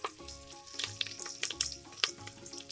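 Onion and green chillies hitting a hot pan for biryani, a soft sizzle broken by scattered clicks of stirring and pan contact, with no voices over it.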